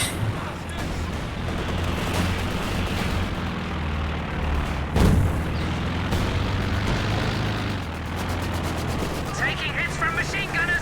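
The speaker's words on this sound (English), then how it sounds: "Taking hits from machine gunners." Machine gun fire in a multiplayer strategy game match, heard as dense continuous rattling battle noise with one sharp blast midway, with a commentator's voice over it.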